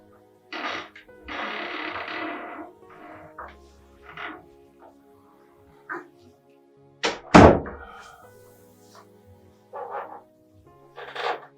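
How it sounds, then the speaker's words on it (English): A door pulled shut indoors, a single loud thud standing out among quieter knocks and bumps, with faint room noise around it and no speech. "Friend, come in and close my door."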